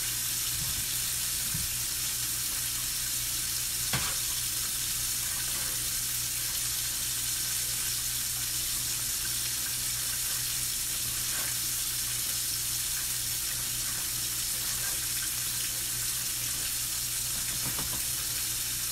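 Water runs and sizzles in a hot pan while vegan grits and vegan fish cook, a steady hiss with a few faint clinks over nineteen seconds and no talk.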